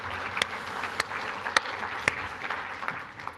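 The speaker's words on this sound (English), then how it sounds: "I think we should all give ourselves a huge round of applause for being here and showing up" Seminar audience in an auditorium clapping, a moderate spread of applause with a few louder individual claps punctuating it, fairly close and without talk.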